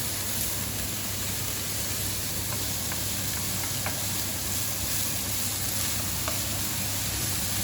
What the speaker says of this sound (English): Garlic, and then we just want that scent of the orange peel there. And that goes into the wok.